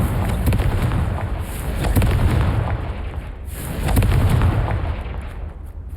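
Confringo fire spell blasts in Hogwarts Legacy: loud, rumbling explosive bursts that swell in two waves over a continuous roaring fire.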